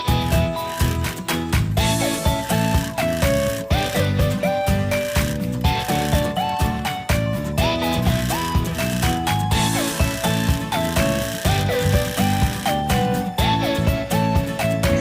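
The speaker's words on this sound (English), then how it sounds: "Now we will stitch the sides of the dress along with the top straps." A sewing machine stitches the sides and top straps of a dress converted from a bedsheet, its rapid mechanical clatter running in repeated bursts with short pauses between runs.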